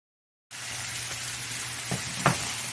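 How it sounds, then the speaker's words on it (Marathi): Chopped onion and bell pepper sizzle steadily in a hot pan, a close continuous frying hiss with a few soft stirring knocks. "कांदा व्यवस्थित लाल रंगावर परतून घ्यायचा आहे"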